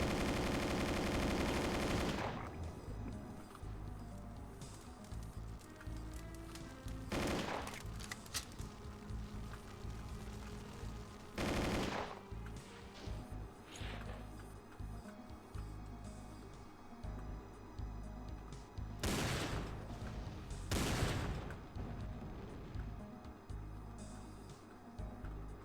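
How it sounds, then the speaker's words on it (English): Rapid bursts of gunfire from Doom 2 weapons, loud and close, with a heavy blast at the start and several sharp shots scattered through continuous rattling fire and game noise. "Just gonna run through here, guns blazing."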